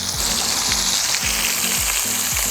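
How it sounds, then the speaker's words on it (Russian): Crucian carp frying in a skillet set over a charcoal grill, a loud, dense, continuous sizzle up close, no talking. "Обжариваем минуты по 3 с каждой стороны."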